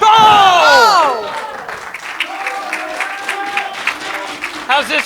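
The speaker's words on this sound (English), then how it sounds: "The crowd is on fire." Crowd at a women's wrestling event roaring and applauding, loud and dense at first, then easing into scattered cheers while a commentator talks over it.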